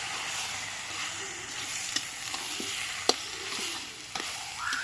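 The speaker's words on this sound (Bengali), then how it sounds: "এবার এটাকে ভালো করে মিশিয়ে দেবো" Sugar being stirred into cabbage cooked with a fish head, a soft steady sizzle with a few sharp scrapes and clicks of the spoon against the pan, close and fairly quiet, no talking.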